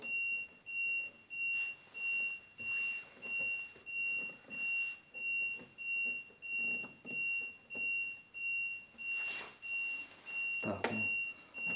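A heated boiler beeps repeatedly in a slow, regular rhythm against a steady high electronic tone, with a few brief knocks and faint background noise.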